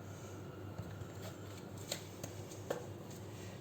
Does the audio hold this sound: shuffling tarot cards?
yes